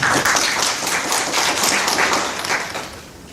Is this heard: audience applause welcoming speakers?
yes